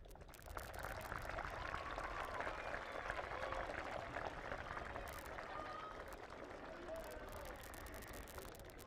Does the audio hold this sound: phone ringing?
no